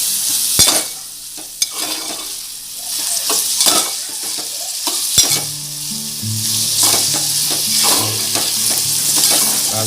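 Dried shrimp (jawla) sautéing Konkani style in a pan over medium gas, a loud crackling sizzle broken by repeated spatula stirs and clacks, no voices.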